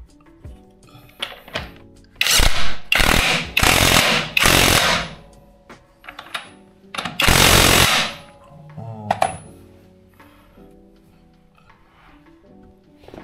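Short bursts from a power impact tool tighten the rear axle nut on an Aprilia RS660, several loud hammering rattles between 2 and 8 seconds, with softer clicks and handling noises around them.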